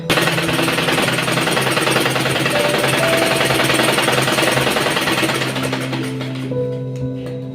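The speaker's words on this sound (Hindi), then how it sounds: "इस तरह से रखते हुए हम दोनों तरफ से सिलाई लगा लेंगे" A sewing machine runs fast and steady, stitching a baby girl's dress with a dense, rapid clatter close up for about six seconds before slowing and stopping.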